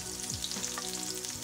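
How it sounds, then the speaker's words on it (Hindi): Masala-stuffed okra (bhindi) frying in a pan gives a steady, close crackling sizzle throughout, with faint stirring and no voices. "एक ऐसे सारी साइड से फ्राई होते हैं।"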